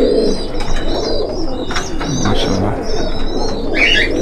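Sylheti pigeons, red-eyed imported birds kept by a breeder, coo repeatedly up close over about four seconds, with scattered higher chirps mixed in and no talking.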